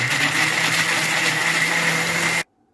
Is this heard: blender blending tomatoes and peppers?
yes